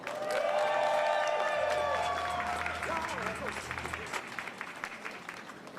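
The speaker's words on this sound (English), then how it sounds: "Give a round of applause." Applause and cheering from a crowd at an outdoor Pride flag raising ceremony in Philadelphia, steady clapping that fades gradually, with a voice and a tonal sound over it at the start.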